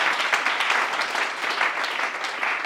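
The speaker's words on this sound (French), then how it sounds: "On acclame pour le Seigneur Jésus." A church congregation applauds for Jesus during a French-language Sunday service, a steady dense wash of clapping that holds at an even level throughout.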